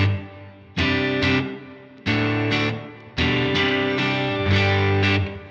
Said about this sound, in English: Now we have a very ambient reverb here